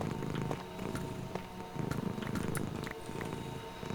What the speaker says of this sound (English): I hear the purring.